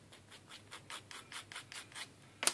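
A small burr is rubbed off a scratch-built model part, making about ten soft rhythmic sanding or filing strokes at an even pace, faint and close, then a sharper tap at the end.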